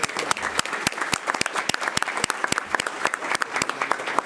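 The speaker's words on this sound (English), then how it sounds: "let's give him a round of applause." Applause from the audience at a city council meeting, steady dense clapping with sharp individual claps standing out, moderately loud and filling the room without talk over it.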